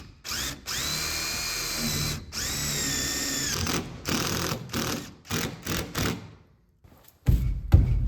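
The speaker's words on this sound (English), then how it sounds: "I've got this self-tapping screw that will go through the wood and into that metal stud" A power drill driving a self-tapping screw through OSB wood sheathing into a metal stud on a metal building, with a high whining motor in several bursts, two long runs then short stuttering pulses, and a thud at the end.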